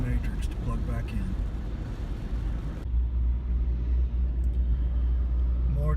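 Low road rumble of traffic heard from inside a moving car, steady and continuous, with a person talking over it.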